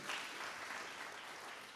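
A church congregation applauds for a deacon at a Christmas Eve service in Thika. The clapping is moderately distant and steady, and no one speaks over it.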